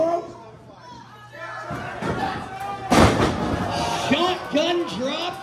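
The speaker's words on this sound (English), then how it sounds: "Shotgun drop kicks up both competitors in that corner." A shotgun dropkick in an indie tag-team wrestling match lands with a heavy thud against opponents in the corner. The sharp impact cuts through a noisy, cheering crowd as an announcer's voice calls the action over it.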